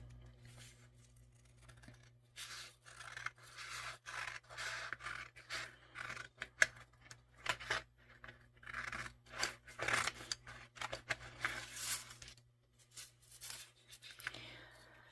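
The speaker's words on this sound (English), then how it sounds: "I'm going to use these bigger scissors that's too heavy for my hand, but just to cut him off the page" Large, heavy scissors cut a paper doll out of a page, close up: a run of irregular crisp snips mixed with scratchy paper rustle and scraping, with brief pauses between bursts of cutting.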